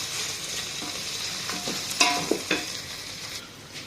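Onion and ginger garlic paste frying for Arabic-style keema while being stirred, a close continuous sizzle with a few spoon scrapes and knocks against the pan.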